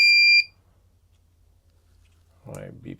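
A single loud electronic beep from an ultrasonic ranging alarm at the start, then near-silence, followed by a brief burst of talk near the end.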